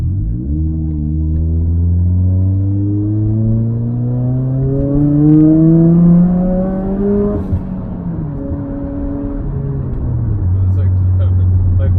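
Turbocharged Toyota Corolla engine on a dyno, a loud run through the gears with a steadily rising pitch, a brief drop, then another climb, and a voice heard faintly under the engine.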